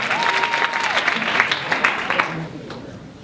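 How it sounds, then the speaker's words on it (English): Audience clapping and cheering at a live comedy show, a burst of mixed applause with scattered voices and whoops, loud at first then tapering off toward the end. "clap it up."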